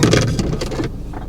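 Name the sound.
Mercedes A200d car driving after shifting into drive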